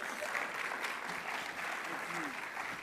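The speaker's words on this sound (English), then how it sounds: "Please give a warm round of applause to Dr." An audience applauds to welcome Dr. Rashawn Ray at a community event on police reform in Memphis, a soft, steady spatter of clapping with faint voices murmuring beneath it.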